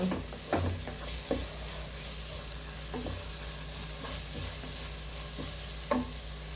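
Crushed green chillies fry in a pan while a spoon stirs them around. There is a constant sizzle, with occasional knocks and scrapes against the metal now and then, close up and without speech.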